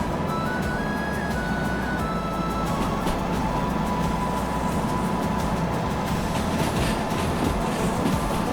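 A train runs steadily on rails in a video game, a continuous rumbling roll with faint rhythmic clatter and a thin high whine, heard close and alone without talk.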